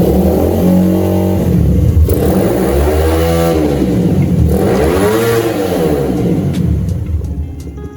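Motorcycle engine fitted with a PWK carburetor revved hard several times, loud and close, with rising and falling throttle sweeps over a rough idle and no talking.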